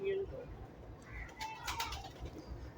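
Pigeons coo softly in a loft, with low, faint calls running beneath nearby talk.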